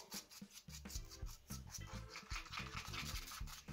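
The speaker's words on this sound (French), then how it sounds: "Je mélange déjà ces 2 ingrédients." Soft, rhythmic rubbing and squishing comes close but faint as two slime ingredients are mixed together by hand, the strokes repeating quickly and evenly.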